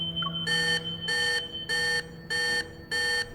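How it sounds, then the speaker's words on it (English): In the Love and Deepspace game, a Metaflux stabilizer alarm in an operating room sounds as five evenly spaced electronic beeping bursts, each loud and steady, over a low background hum. "The alarm from the Metaflux stabilizers resound throughout the entire operating room."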